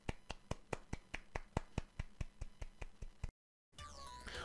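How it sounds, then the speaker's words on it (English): Slow, deliberate golf clap: about fifteen evenly spaced single hand claps from one person, close and dry, ending abruptly before a short silence and a different sound. "all I can do to show my adoration for this man is simply golf clap"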